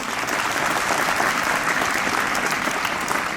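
At a school Gita competition event, a crowd of children and guests claps loudly and continuously in a thick, even wash of applause for a few seconds.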